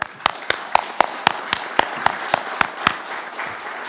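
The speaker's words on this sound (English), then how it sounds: "I do want to give you a little round of applause." Sparse, evenly spaced claps from a small group at a town council meeting, a slow round of applause with sharp hits about every quarter second.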